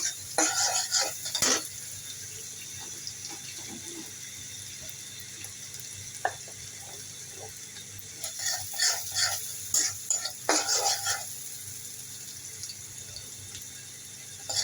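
Vegetable bhaji with Bombay chillies sizzles in a pan under a steady low frying hiss, broken by bursts of close scraping, stirring strokes near the start and again later.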